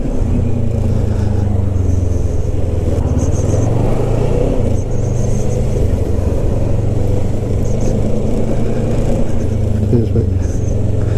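Continuous low rumble of road traffic and engine noise heard from a moving Kawasaki ER6f (Ninja 650R) motorcycle, steady and loud throughout with wind roar and no clear individual vehicle passes.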